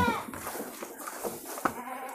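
Goats and sheep in a farm pen bleat repeatedly, several overlapping cries close by against steady barn noise, with a faint voice in the background.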